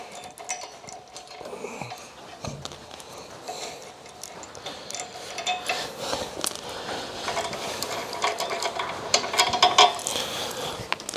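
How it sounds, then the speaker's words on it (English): Coach bolt screws being wound out of a Turbosawmill automated sawmill frame, with a steady series of rapid ratchet-like clicks and metallic ticks, close by and growing busier and louder toward the end, with no speech. "the next stage is taking these coach bolt screws off"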